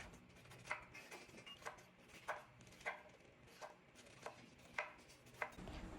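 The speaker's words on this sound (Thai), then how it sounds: "ต่อไปก็จะมาหั่นกระหล่ำให้เป็นเส้นฝอยๆน้อยๆแบบนี้กันจ้ะ" A knife shredding cabbage into thin strips on a cutting board, a series of soft, regular chopping taps roughly every half second, close and quiet, with no talking.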